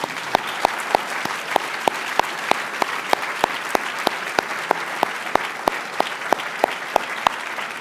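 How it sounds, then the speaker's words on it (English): Audience at an awards ceremony clapping as a round of applause, a steady wash of many hands with sharp regularly spaced claps standing out near the microphone. "please join me in a round of applause he'll be able to hear all the way to Seattle"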